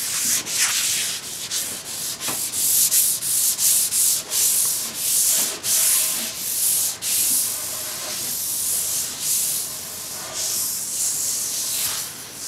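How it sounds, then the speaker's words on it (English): Sandpaper rubs boiled linseed oil into a wooden coffee table, a loud close rasping scrub in quick repeated back-and-forth strokes throughout. "Applying boiled linseed oil with sandpaper."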